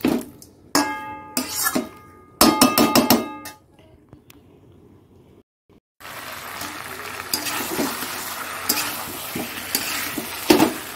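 Meat and spice masala sautéing in a pan: a few sharp clatters of stirring at first, a short quiet gap, then a steady broadband sizzle with occasional scraping knocks, close and moderately loud.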